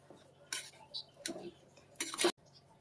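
A spoon stirs vegetable pulav with ghee in a metal pot, three separate bursts of scraping and clinking against the pot's sides, close and fairly quiet, with short pauses between them.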